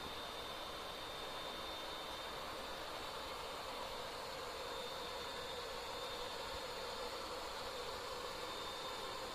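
A model train climbs the Wasatch Grade on a layout, giving off a steady, even whirring rumble with a faint high whine, constant and unbroken throughout with no talking.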